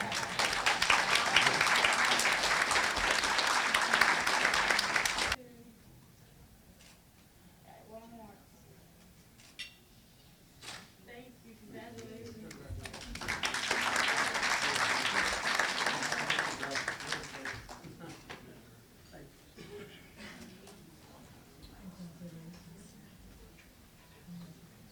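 Audience at a farmers conference applauds the 2020 Merit Farm Family awardees, a loud wash of clapping that stops abruptly, then returns after quieter stretches of room sound and a few scattered claps.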